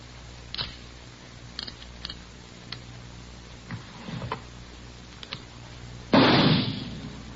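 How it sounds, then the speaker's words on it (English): A .38 caliber revolver fires a single test bullet in a police ballistics room, one sharp, loud bang near the end that follows several faint clicks and small handling ticks in an otherwise quiet room. "You have just heard a test bullet fired from a .38 caliber revolver found in the possession of a suspect."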